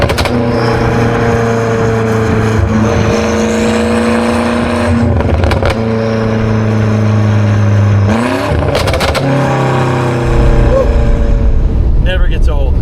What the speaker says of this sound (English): The second you step on the gas, you're taking off rip.